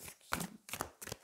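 Brief rustle and slide of a tarot card being drawn from the deck, three soft, close, quiet swipes with no talking.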